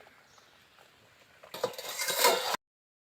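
A lid is set over a pan of cooking cabbage, a short metallic clatter and scrape lasting about a second after a quiet stretch, then silence.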